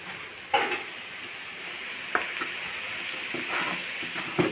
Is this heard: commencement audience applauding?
no